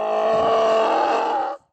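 A slow donkey bray used as one layer of a film dinosaur roar, heard as a loud, sustained groaning tone that holds steady for about a second and a half, then cuts off abruptly.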